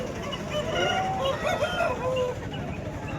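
A rooster crows once in a long, wavering call at a busy chicken market, heard amid the constant murmur of the crowd and clucking fowl.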